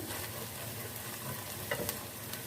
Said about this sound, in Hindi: लहसुन और प्याज को हम 2 मिनट के लिए फ्राई कर लेते हैं।